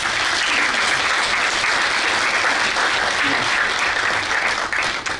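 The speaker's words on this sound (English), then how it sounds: "Round of applause." An audience at a live masterclass event applauds, with loud, dense, sustained clapping that fades out briefly at the very end.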